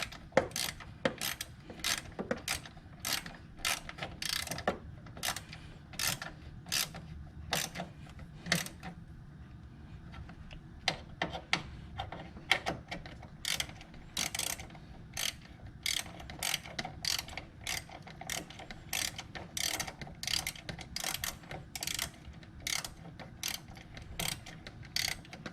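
A ratchet tightens 10mm bolts on the crankshaft sensor of a 2016 Rogue. The clicking is fast and fairly quiet, coming in repeated bursts with short pauses and faint mechanical handling underneath, and no one talks.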